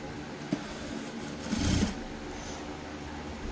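A sewing machine stitches along the lower hem of a shirt being altered to a smaller size, a soft steady mechanical hum with one short louder burst of running partway through.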